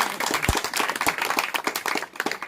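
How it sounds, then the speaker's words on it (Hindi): An audience at an outdoor political rally claps steadily and loudly, a dense crowd applause with sharp individual hand claps standing out, continuing throughout without speech. "ताली बजा करके खूब जोरदार"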